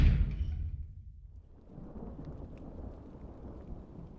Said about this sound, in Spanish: La lluvia caía sobre Torasea y el impacto de las gotas sobre el tejado retumbaba en el interior de la sala común.